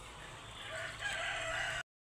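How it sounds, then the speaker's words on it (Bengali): Rooster crowing at a 3000-bird chicken shed beside a biogas plant, one drawn-out crow heard clearly at moderate distance over a low farm hum, ending abruptly. "এখানে মুরগি আছে"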